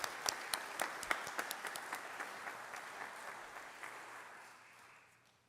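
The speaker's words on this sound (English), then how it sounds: "Get a round of applause." Audience applause at an Eagle Scout Court of Honor ceremony: a room of people clapping steadily with a few sharper individual claps near the start, holding at moderate level before fading out over the last second.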